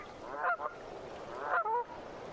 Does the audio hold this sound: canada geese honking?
yes